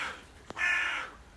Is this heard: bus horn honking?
no